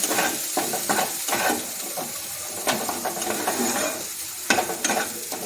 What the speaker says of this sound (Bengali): এবার ভালো করে মশলাটাকে কষিয়ে নেব।